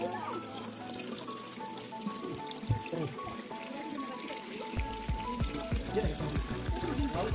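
Spring water trickles and pours steadily from the Gomukh cow-mouth spout at Raireshwar fort, a continuous close splashing stream with a voice talking over it.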